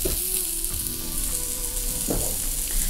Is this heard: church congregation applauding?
no